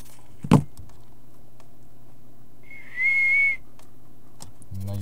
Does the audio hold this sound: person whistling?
yes